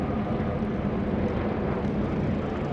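A Skyraider warbird propeller aircraft flies in formation with Yaks at an airshow, producing a steady, loud, broadband engine drone throughout with no break.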